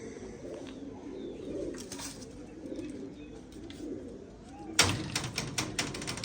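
Pigeons kept by a breeder coo softly in a loft, low murmuring calls over faint background noise, followed near the end by a few closer, sharper bird sounds.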